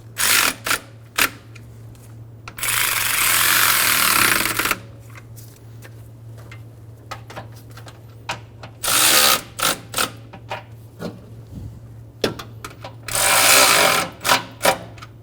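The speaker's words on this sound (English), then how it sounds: "Snug the bolts down." A ratchet snugs down radiator bolts on a 2007-2011 Toyota Camry 2.4L four-cylinder. Loud, rapid buzzing runs of clicks come in three bursts of about one to two seconds, separated by scattered single clicks and a steady low hum.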